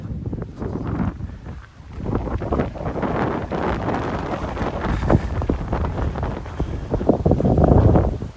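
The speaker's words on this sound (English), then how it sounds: "the wind picks up again" Gusty wind buffets the microphone on open Peak District moorland at the Longshaw Estate, a rough, fluctuating roar that eases briefly and then builds strongly again toward the end.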